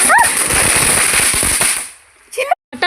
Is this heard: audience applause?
no